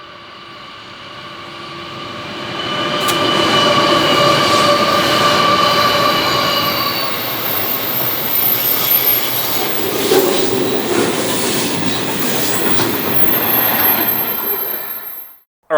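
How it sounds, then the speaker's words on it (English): An SSR grain train led by a C-class locomotive rolls past on the NSW Main South line in Australia, building to a loud, sustained roar of wagons with squealing wheels and rhythmic clatter, then cutting off abruptly. "SSR grain train coming. I believe there's a C-class on the front"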